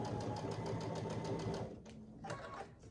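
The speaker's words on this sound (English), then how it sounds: "I'll just stitch down this whole side" Sewing machine stitching quilt blocks, a steady rapid whirring run that slows and stops after about one and a half seconds, followed by a brief restart, faint and close.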